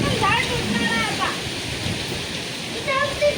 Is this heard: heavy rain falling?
yes